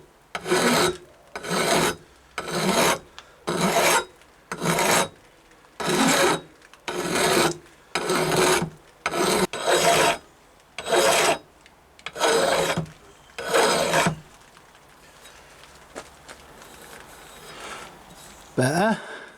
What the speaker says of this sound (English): I'm going to run a file across the top, just try and get a little bit of shape back into it